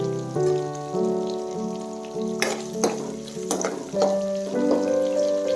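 Curry leaves hit hot oil in a pan for a cabbage stir-fry, bursting into loud spattering crackles midway over a continuous sizzle, while a steady tonal hum runs underneath.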